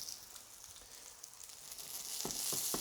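A half chicken sears in a hot pan, giving a continuous close frying sizzle that builds in loudness toward the end, with a few crackling pops near the finish.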